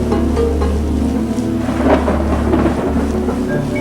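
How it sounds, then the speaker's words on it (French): A thunderstorm in a 1989 Quebec television advert brings heavy rain and a deep rolling rumble of thunder that swells midway, all loud and steady with no speech. "Les orages de Mathieu"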